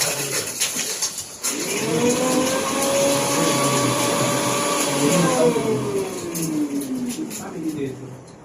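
An electric blender crushes ice for a strawberry milkshake, its motor running as a loud, steady whine for several seconds, then dropping in pitch as it winds down near the end.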